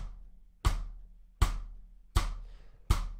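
A drum kit plays a steady ostinato using every limb except the right hand, four sharp, evenly spaced hits combining a low thump with a bright cymbal-like crash, fairly quiet and alone.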